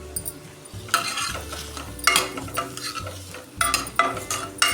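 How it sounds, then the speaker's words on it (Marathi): Green beans sautéing in a pan for macaroni soup, with a soft sizzle under repeated spoon stirs and light clinks of utensil on metal, close and rhythmic, without speech. "पाच मिनिट आपण यात परतून घेऊया"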